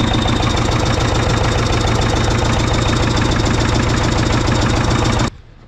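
A Soviet bulldozer's diesel engine rumbles and knocks steadily at a loud, close idle, then cuts off abruptly near the end.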